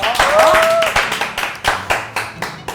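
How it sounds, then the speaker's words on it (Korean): Studio audience in a Korean variety show clapping, a brief swell of applause settling into a few spaced, loud hand claps, with talk at the start. "세상에 박수 한 번 줘요."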